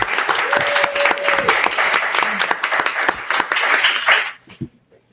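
A convention panel audience gives a round of applause, many hands clapping steadily with a brief whoop near the start, then thinning out and stopping abruptly.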